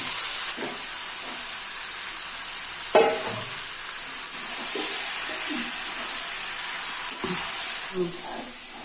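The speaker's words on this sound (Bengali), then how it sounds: "এইবার আমার যে মাংসটা ম্যারিনেট করে রাখা ছিল আধ ঘন্টা আগে থেকে, সেই মাংসটা এবার আমি এতে দিয়ে দিলাম" Marinated meat fries in a pan on a stove, producing a steady, close sizzle and hiss with occasional stirring scrapes and clatters.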